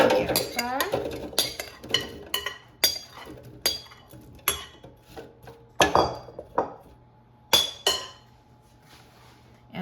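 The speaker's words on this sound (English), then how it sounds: "let's take out the air fryer basket and add the potatoes to the air fryer" Skin-on potatoes tumble into an air fryer basket, giving a series of sharp clinks and knocks with short pauses between, close and fairly loud in a quiet kitchen.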